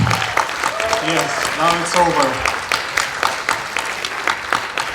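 An audience at a startup weekend event in Varna applauds the competing teams, with sustained clapping throughout and someone talking over it.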